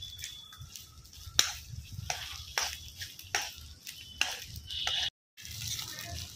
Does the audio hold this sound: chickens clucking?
no